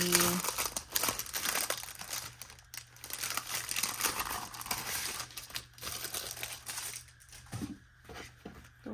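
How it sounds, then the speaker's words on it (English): Small paper envelope being handled at close range, with soft crinkling and rustling bursts scattered across the stretch, brief quiet gaps and faint background noise between them. "So I need to get one more little envelope here"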